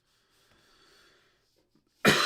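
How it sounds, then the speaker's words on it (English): A single sharp cough bursts out loud and close at the end, after a stretch of faint breathing and soft rustling, during a quick gesture drawing session with pencil. "Apologize for the coughing."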